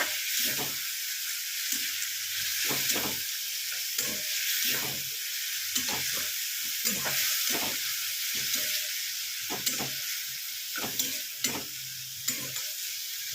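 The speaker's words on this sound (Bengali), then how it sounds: "কাশ্মীরি লাল লঙ্কা দিয়ে একটু কষিয়ে নেব।" A fish head sautés in a pan with turmeric and Kashmiri red chili, producing a steady close-up sizzle punctuated by regular, rhythmic scraping stirs of a spatula, with no talking.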